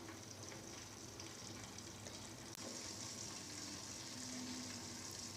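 Chicken pieces frying under a lid in a covered pan give a steady, quiet sizzle that runs evenly throughout without talk.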